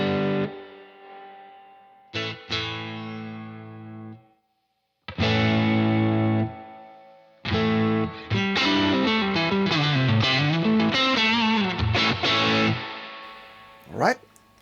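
Electric guitar through a Universal Audio Dream '65 Reverb amp as the gain is swept, starting with clean sustained chords and moving into distorted riffs and bends, with short silent gaps between phrases.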